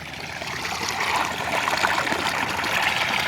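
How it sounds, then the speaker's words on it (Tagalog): Spring-fed irrigation water gushes strongly into an onion field, a steady close rushing and gurgling flow that builds slightly in loudness. "Ang lakas ng tubig o."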